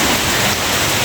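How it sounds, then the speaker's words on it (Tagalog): Steady, dense rainfall hisses evenly throughout, a continuous wash of drops with no pauses and no voices. "Maulan na hapon."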